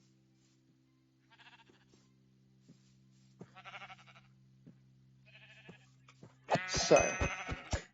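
Sheep bleat in a Minecraft-style game, faint at first and then loud and close at the end, over a steady low hum with soft clicks.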